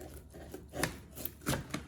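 A knife slices a piece of boiled beef with a few short, soft cutting strokes close by, quiet scraping sounds with brief pauses between them.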